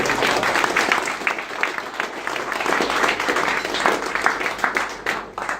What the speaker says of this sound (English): round of applause to the Mayor as well